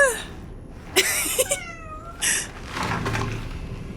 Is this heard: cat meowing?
yes